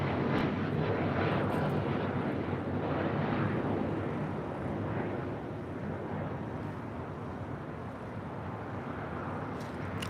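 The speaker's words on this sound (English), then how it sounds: "That was United Airlines Flight 1374 heading to Denver on a 737 MAX 9." At LAX, a United Airlines Boeing 737 MAX 9 bound for Denver takes off with a broad, steady jet roar that is strongest at first and eases gradually as it moves away, heard alone without talk.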